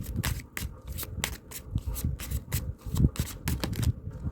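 Tarot cards being shuffled by hand, a close, steady flurry of rapid papery riffles and slaps in quick rhythmic bursts.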